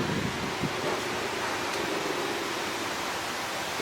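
Heavy rain pours steadily during a thunderstorm, a dense continuous hiss that stays even and fairly loud throughout, with no voices over it.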